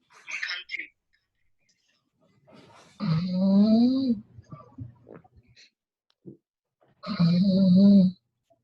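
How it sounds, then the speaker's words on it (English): A person snoring during an online group sound session, two long drawn-out snores a few seconds apart, fairly loud and close, with faint murmurs and small noises between them. "Someone's snoring."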